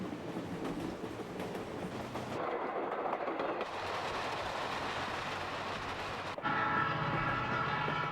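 Alaska Railroad's Fairbanks-bound train rolls on from Talkeetna toward Denali, a loud, steady rumble of wheels and cars with rattling clatter and a sharper shift in tone near the end.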